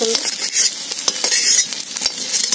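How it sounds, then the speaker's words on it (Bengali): Battered pumpkin flowers frying in hot oil give a steady bright sizzle, with light clinks of a utensil stirring and lifting them out of the pan, close and continuous with no talking. "এইভাবে লাল লাল করে সবগুলোকে আমি ভেজে তুলে নেবো।"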